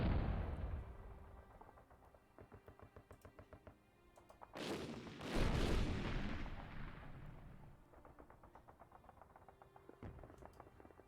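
Heavy artillery salvos boom and rumble in the wargame Panzer Campaigns Japan '45, with deep repeated blasts and crackling impacts, two big loud bursts near the middle, then smaller thuds rolling on beneath.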